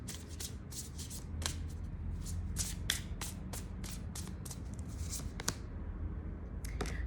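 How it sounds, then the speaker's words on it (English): Tarot cards being shuffled by hand in a quiet room, a series of quick, crisp riffling bursts and soft slaps close to the microphone, repeating irregularly over a low background hiss. "I'm going to shuffle the card for"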